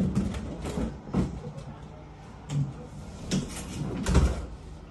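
A door opens with a series of scraping, sliding thumps and rattles across several seconds, fairly close, with faint voices in the background.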